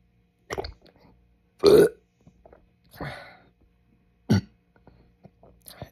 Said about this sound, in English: Pardon me if I burp. I just ate.